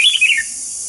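A red-whiskered bulbul gives a quick pair of bright, close chirps that fall away into quiet.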